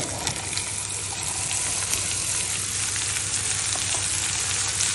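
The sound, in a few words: bottle gourd and onions sautéing in a pan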